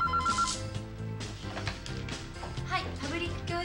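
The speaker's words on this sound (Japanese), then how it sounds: "山内さん、電話です。" A telephone ringing with a quick trilling bell near the start, followed by room clatter and a busy mix of other sounds.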